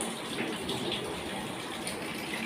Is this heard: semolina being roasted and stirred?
no